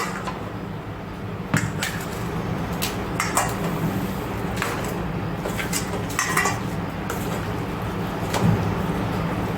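A metal utensil scrapes and taps against a pan while papad corn masala is stirred and mixed, light irregular clinks over a steady low kitchen hum, close and fairly quiet.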